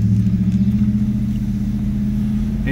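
A car engine drones steadily from inside the cabin during a drive home, a loud, even low hum with a slight regular pulse and no talking.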